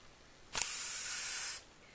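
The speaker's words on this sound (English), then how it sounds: "I'm going to spray the paper with the adhesive" A single steady hiss of aerosol spray adhesive onto paper lasting about a second, close and fairly loud, with quiet before and after.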